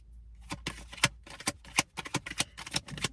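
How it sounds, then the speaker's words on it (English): Tarot cards being shuffled in a cramped space: a run of quick, close, crisp riffling bursts in an uneven rhythm, with no talking. "It's actually pretty hard to shuffle in here."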